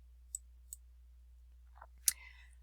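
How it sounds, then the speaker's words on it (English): Soft computer mouse clicks on a drawing program's Load button: two light clicks, a pause, then a sharper click, close and quiet against near silence. "So you have to click the Load button,"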